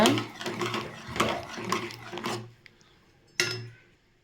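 A spoon scrapes and clinks against a metal pot in quick repeated strokes while stirring chayote keema kootu with turmeric, close by, with a louder clank near the end.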